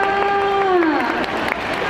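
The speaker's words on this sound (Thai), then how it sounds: "ขอเสียงปรบมือด้วยค่ะ" Audience at a cosplay contest applauds and cheers, a dense burst of clapping under a loud sustained tonal sound and crowd noise, lasting under two seconds.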